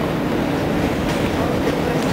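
R160 subway train in a train simulator game, running toward Coney Island. A steady, loud rumble of motors and wheels on track holds without a break the whole time, and no one speaks.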